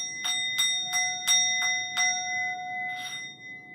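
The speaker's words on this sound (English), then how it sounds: "So singing bowl, singing bowl." A handheld bell or singing bowl is struck six times in a steady rhythm, each strike ringing with sustained bright overtones, followed by a softer seventh stroke and a lingering hum in a quiet room.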